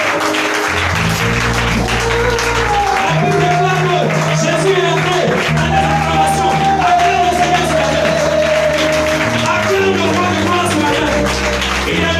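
A church congregation claps and acclaims loudly and steadily through a worship service, the sustained crowd noise mixed with music and voices.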